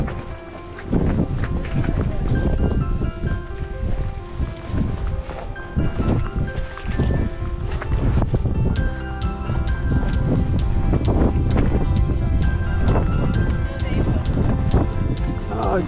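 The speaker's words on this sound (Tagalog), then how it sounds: "Oh, it's very windy." Strong wind buffets the microphone on the Bray Head to Greystones cliff walk, a loud continuous roar with heavy rumble, while a person talks over it and footsteps sound.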